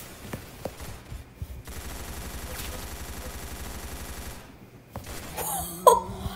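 Rapid automatic gunfire from a Roblox Arsenal match rattles in a sustained stream for several seconds, then breaks off as game sounds and a voice follow near the end.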